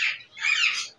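A pair of red-bellied parrots gives two loud, harsh squawking calls in quick succession, close by and alone, with a short gap between them.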